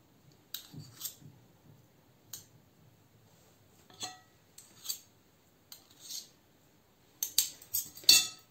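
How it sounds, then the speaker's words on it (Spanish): Two metal spoons shape a homemade chicken nugget mixture. They make sparse, light clinks and taps with quiet pauses between, grouping into a quicker cluster of clinks near the end. "cogemos dos cucharas"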